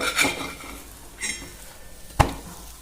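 A thalipeeth being flipped on a hot tawa griddle with a spatula: three short metallic scrapes and clinks, the last one the sharpest and loudest, over quiet background.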